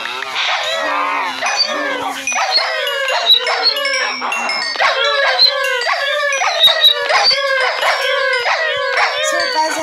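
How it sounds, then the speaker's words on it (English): A wolf howls in long, wavering, rising and falling cries on a farm. The howls repeat closely through the whole stretch, loud and near, with some overlapping yips. "The wolf."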